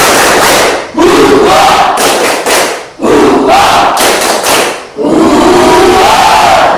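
A class of children chanting loudly in unison with rhythmic clapping, a 'tepuk semangat' clapping cheer in a classroom, in three energetic bursts separated by short pauses.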